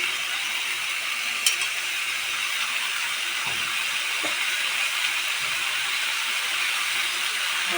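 Potato pieces dropped into a little hot oil, sizzling with a steady close hiss and a few faint pops and clicks, continuous and even throughout.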